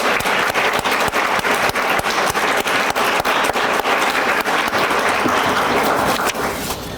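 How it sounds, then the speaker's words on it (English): Sustained audience applause for Hall of Fame inductees at a financial education teacher summit, a dense, steady wash of many hands clapping, loud and continuous, tapering slightly at the end. "Let's give them a round of applause"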